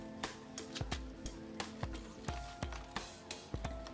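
A wrench tightens a bicycle pedal with a steady run of close, sharp ratcheting clicks, about two or three each second, with no talking.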